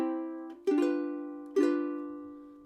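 A simple chord turnaround is played on a keyboard: three sustained chords struck one after another, each ringing and slowly fading, with no voice over them.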